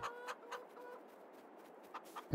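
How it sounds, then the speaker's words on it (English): A rooster in the farming game Farming Simulator 22 gives short soft clucks in a few scattered bursts, quiet and fairly close, with no talking over it. "Where is the rooster? He's usually the loud, annoying one."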